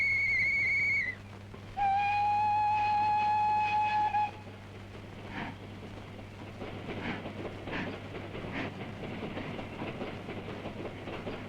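A train blows two long whistle blasts, then its wagons roll along the rails with a steady rumble and faint rhythmic clicks, heard at moderate distance in an old Tamil comedy film.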